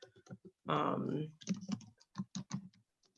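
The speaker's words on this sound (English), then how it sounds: "I'm just typing" Keys clatter on a computer keyboard in short uneven bursts of typing, with a brief stretch of rustling noise near the start.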